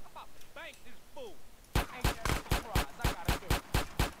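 Gunfire in the video game GTA San Andreas: after a few whooshing game effects, a rapid series of about ten loud, evenly spaced shots rings out.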